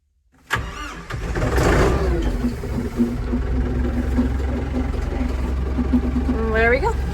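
A diesel tractor engine cranks and fires up in bitter cold, catching quickly and settling into a loud, steady rumbling idle close by, with a brief creak or squeal near the end.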